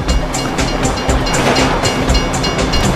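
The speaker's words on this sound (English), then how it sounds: "you'd know the train comes by right now" A train rolls past in Grand Theft Auto V, a loud, steady rumble with repeated clickety-clack wheel beats running through the whole stretch.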